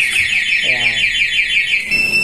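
Anti-theft alarm on a Yamaha Sniper 155 motorcycle blaring a continuous warbling, sweeping electronic siren tone, loud and close, with a voice speaking briefly underneath.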